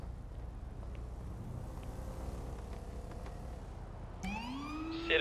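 An emergency vehicle siren in a roleplay video game starts suddenly near the end, a rising electronic wail over a low ambient hum.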